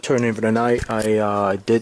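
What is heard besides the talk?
No everyday noises stand out.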